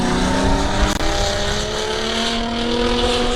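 Drift cars battling in a Top 32 tandem at Meremere, New Zealand, engines screaming in a loud, continuous high-revving roar that holds steady throughout.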